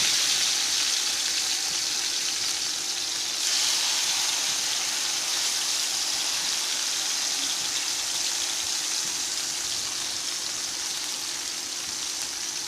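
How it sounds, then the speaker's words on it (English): Chicken pieces sizzle steadily in hot frying oil, a loud, continuous crackling hiss that holds for the whole stretch with no talking. "Right, my oil is hot enough, so I'm going to add my chicken. Hear that sizzle?"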